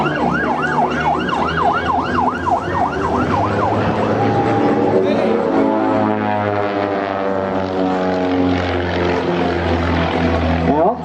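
Autogyro engines in a formation display at the Clacton-on-Sea air show in Essex, a loud droning propeller roar whose pitch sweeps up and down as the aircraft wheel past, several machines overlapping close overhead, with a commentator talking beneath.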